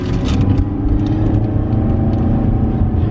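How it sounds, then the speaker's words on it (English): A truck drives by with a steady, loud low engine rumble and road noise that fills the whole moment, heard up close without any voices. "what is this truck doing?"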